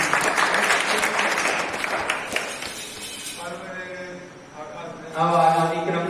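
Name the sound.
applause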